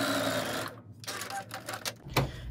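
A sewing machine stitches fabric pieces for a quilt block, a dense mechanical whir that breaks off, then returns as short bursts of stitching, close and moderately quiet.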